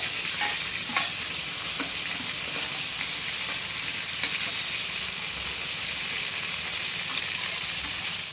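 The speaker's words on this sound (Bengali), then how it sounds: "আর দিয়ে দেবো একটু হলুদ গুঁড়ো দিয়ে হালকা করে ভেজে নেবো" Prawns with turmeric fry in hot oil, giving a continuous close sizzle and crackle with faint stirring scrapes mixed in, steady throughout with no speech.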